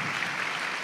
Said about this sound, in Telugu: చప్పట్లు కొడదాం అందరూ గట్టిగా.